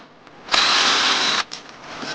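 A power drill whines in one loud, steady burst of about a second while pre-drilling diagonally into the top of wooden rails, then a brief softer whir follows.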